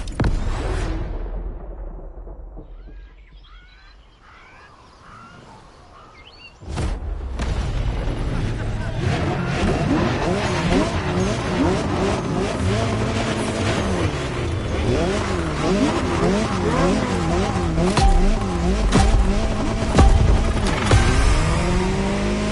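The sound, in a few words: Jaguar CX-75 concept car driving in The Crew Motorfest video game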